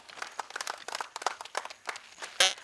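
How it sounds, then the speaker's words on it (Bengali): A crowd claps in short, irregular bursts at a prize-giving during a quiz competition at Santiniketan Medical College and Hospital, moderately loud, with a sharper burst of claps near the end. "মনোরঞ্জনের জন্য জোড়া হাততালি হয়ে যাক একবার"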